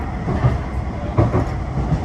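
A Blackpool tram running on rails between Pleasure Beach and Norbreck Castle, heard from on board as a steady rumbling roll with light rhythmic wheel knocks, with no talk.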